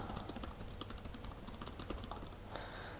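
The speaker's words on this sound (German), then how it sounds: "Machen wir mal hier ein Dokument, Textdokument auf und versuchen wir mal zu tippen" Rapid clicking keystrokes on a Pinebook laptop keyboard, close and fairly quiet, typed in quick irregular bursts, with a brief softer hiss near the end and no talking.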